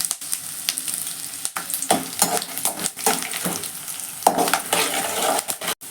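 Dried red chillies hit hot oil along with lentils for capsicum lemon rice, giving a loud crackling sizzle with spoon stirs and metal scrapes against the pan, bursts of spitting near the end.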